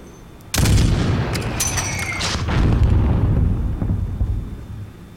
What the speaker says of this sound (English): There's still a mortar out there.